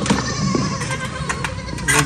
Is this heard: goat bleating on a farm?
yes